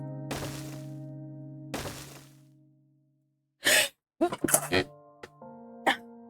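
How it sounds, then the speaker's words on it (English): A person sneezes once near the middle, a short sharp burst followed by gasping, sniffing and breathy noises, set against quiet musical tones at the start and end. "Uh-oh, I'm gonna sneeze."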